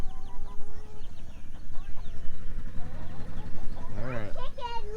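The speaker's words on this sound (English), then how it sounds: "Chicken looks sick." A chicken on a backyard garden homestead clucks in short, repeated calls over steady low background noise, close by and moderately loud, the bird said to look sick.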